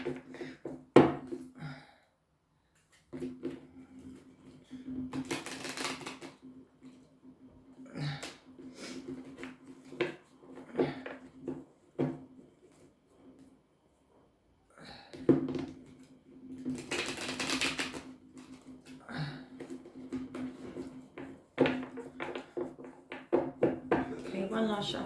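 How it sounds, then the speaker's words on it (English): A deck of tarot cards is shuffled in two longer bursts of dry riffling and rustling among scattered card taps, with a person talking at close range throughout. "They're a little bit hard to shuffle, but I presaged and shuffled the deck."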